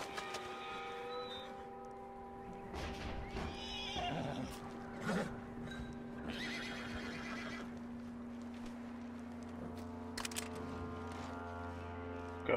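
A horse whinnies and snorts in Red Dead Redemption 2 over a low steady hum, with soft hoof clops and scattered rattles; the calls come in a few bursts.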